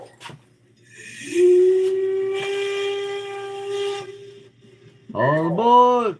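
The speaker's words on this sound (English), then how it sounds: "Steam whistle." A steam engine's whistle gives one long, steady blast of a few seconds, then a shorter wavering toot, loud and clear against a quiet background.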